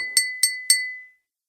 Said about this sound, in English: Draco Malfoy resumed tapping his spoon against the water glass, creating a clear ringing chime